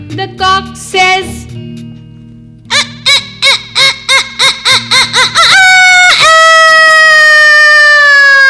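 A rapid run of clucking pulses leads into one loud, long, drawn-out cartoon rooster crow, close and clear.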